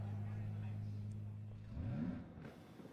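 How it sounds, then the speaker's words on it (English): Ferrari Challenge race cars at Sonoma fire up, a low engine drone rising into a rev near the end, with a commentator talking over it. "Drivers, start your Ferrari engines."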